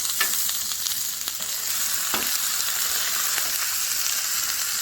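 Steady, dense sizzling of chorizo frying on a hot griddle, with a few faint clinks over the crackle; no voices.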